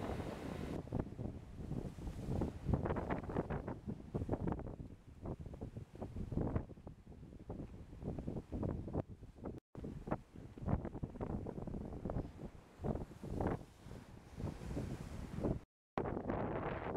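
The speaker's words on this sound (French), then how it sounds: "Le vent a repris de plus belle le matin du troisième jour." Strong, gusting wind during a storm at a campsite buffets the microphone in loud roaring bursts, with brief lulls, continuing almost without pause.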